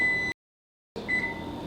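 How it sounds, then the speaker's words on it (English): A steady electronic oven timer beep rings in a quiet kitchen, cuts off briefly, then sounds again with faint background noise. "As soon as it beeps, we'll be ready."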